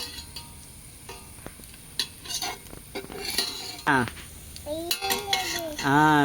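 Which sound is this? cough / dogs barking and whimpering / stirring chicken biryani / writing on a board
stirring chicken biryani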